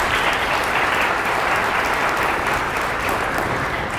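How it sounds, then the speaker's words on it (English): An audience at a community field fundraiser claps for a jazz band, steady, dense applause from a crowd filling the whole stretch at full volume, with no voices standing out. "let's give them a round of applause one more time"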